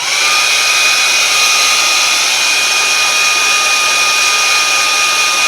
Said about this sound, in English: So you just want to take your hairdryer,